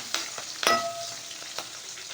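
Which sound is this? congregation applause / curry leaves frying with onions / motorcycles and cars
curry leaves frying with onions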